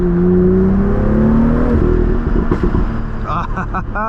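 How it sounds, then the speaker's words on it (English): A stock F87 BMW M2 engine drops in pitch through a downshift, followed by a quick run of crackling exhaust pops close by, with a voice speaking over part of it. "Ooh, that was a nice downshift."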